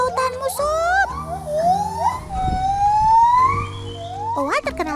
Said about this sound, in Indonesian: Owa terkenal punya sautan seperti nyanyian yang nyaring menggema begini, teman.